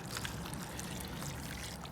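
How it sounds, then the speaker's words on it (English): Beef broth poured over smoked beef cheeks with a set bark, a steady continuous liquid splash and trickle close by for the whole moment, with no talking. "For our braising liquid, I have 16 ounces of beef broth. So we're just I'm gonna pour it right over the top."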